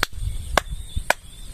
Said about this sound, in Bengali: কয়েকটা তালি দিতে পারো, এইটা করলে সাপ পোকা যেগুলো থাকবে এগুলো দূরে চলে যাবে